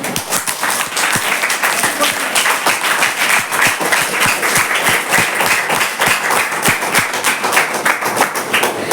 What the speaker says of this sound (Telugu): ఒకసారి బ్రహ్మాండంగా చప్పట్లు కొడుతుంది.